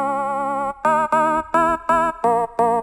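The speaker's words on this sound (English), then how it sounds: "an old school rave sound that we recreated in Serum" An old-school rave synth patch built in Serum, with buzzy, harmonically rich chord stabs. One long held chord is followed by six short, evenly spaced, punchy hits, loud and alone.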